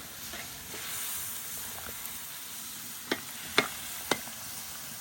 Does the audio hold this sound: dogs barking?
no